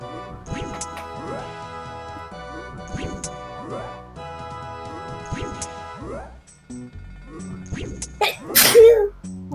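Sneezing from a character in Old School RuneScape during the Dragon Slayer 2 quest, several short sneezes in a row over looping game music, with a louder crash near the end.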